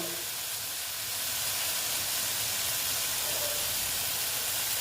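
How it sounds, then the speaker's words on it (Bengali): Water hits a hot pan of frying snakehead fish curry with onion stalks, setting off a loud, continuous hissing sizzle that holds steady and grows slightly stronger, with no talking. "দেখো জল দিয়ে দিলাম এতটুকুই দিলাম"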